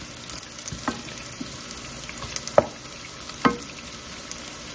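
Meat-substitute sausages fry in a pan with a constant low sizzle, broken by a few sharp pops and light clicks of a utensil against the pan.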